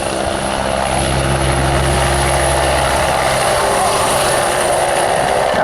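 A loud helicopter flies close by at the RAF Cosford Airshow, performing a pirouette, its rotor thumping and engine whining continuously throughout.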